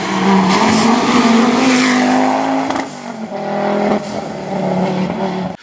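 A historic Audi Quattro four-wheel-drive rally car races along a stage at the Rallye de Asturias Historico, engine roaring loud and near with gear changes and a brief tire squeal as it passes.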